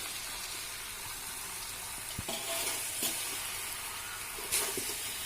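Chicken, potato and jackfruit fry in a pan while being stirred, giving a steady low sizzle and hiss with a few scraping clicks from the spoon, quiet and close with no voices.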